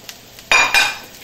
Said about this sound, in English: you want to give those a quick stir